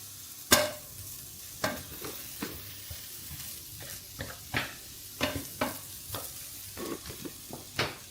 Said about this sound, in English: We'll get a nice sizzle going.